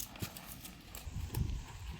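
A horse trots in a training session, hooves clip-clopping in an irregular rhythm of soft thuds on the ground at moderate distance, with faint background noise.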